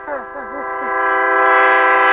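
A train horn sounds a long, steady, loud blast that swells as it goes on. A brief wavering cry comes at the very start.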